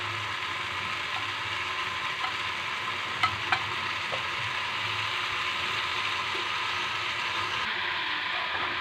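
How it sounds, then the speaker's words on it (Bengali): Sukto vegetables seasoned with salt, sugar and turmeric are stirred in a frying pan, giving a continuous close sizzle broken by a couple of sharp utensil taps near the middle; nobody speaks. "আমি এখন এটাকে নেড়ে চেড়ে কিছু সময় ঢাকা দিয়ে রাখবো।"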